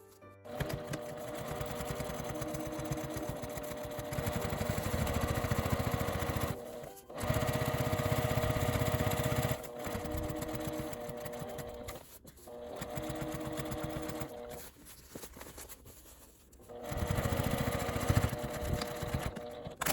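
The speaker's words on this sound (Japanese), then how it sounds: "蓋の部分に端ミシンをかけます。" A sewing machine edge-stitching a fabric document case lid runs in steady whirring bursts of several seconds each, separated by short pauses, close by and fairly loud.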